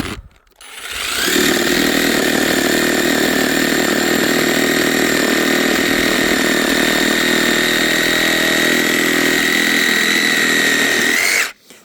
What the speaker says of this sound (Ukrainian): а тепер цю саму патику ріжемо сабельною